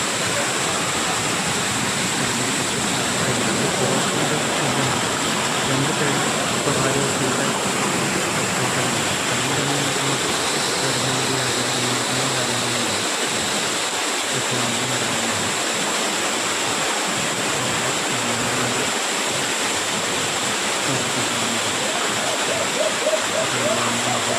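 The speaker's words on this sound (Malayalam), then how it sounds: "നല്ല സൈലൻ്റ് ഏരിയ ആണ് വെള്ളച്ചാട്ടത്തിൻ്റെ സൗണ്ട് ഉണ്ടാണ്ട് വേറെ ഒരു ശല്യങ്ങളുടെ കാര്യമൊന്നുമില്ല" A waterfall in a quiet, little-visited forest spot at Perumpara, a steady, full rushing roar of falling water that holds unchanged throughout, close and constant with no other noises.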